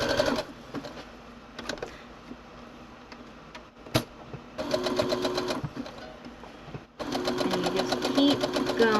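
A sewing machine stitches a rug in bursts, running faster in the later stretches with a steady rapid chatter, near and loud, with short pauses between runs.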